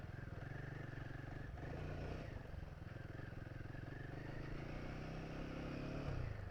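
A Royal Enfield Himalayan 450 motorcycle rides through deep, loose sand, its engine droning continuously and fairly evenly beneath steady wind and road rumble, with no breaks for the whole stretch.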